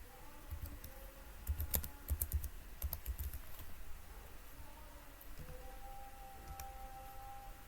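Keys clatter on a computer keyboard in short bursts of quick clicks, faint and close against a steady low background hum.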